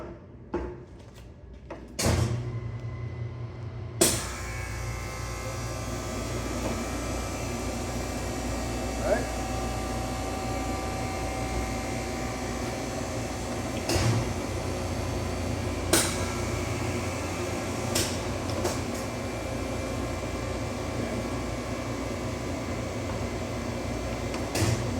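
A Taylor C713 air-cooled single-phase soft-serve ice cream machine runs a mix test with a steady mechanical hum and whir, punctuated by occasional sharp clicks and clunks, close by, with voices talking over it at times.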